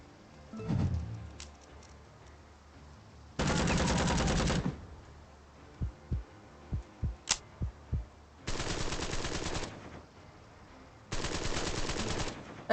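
Suppressing gunfire in the video game Empire of Sin comes as three long automatic bursts, interrupted by a rapid run of about eight single thumping shots between them.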